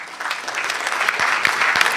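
Applause from a seated audience at a national championship launch event, a steady wash of many hands clapping close and loud, with a few sharper individual claps standing out.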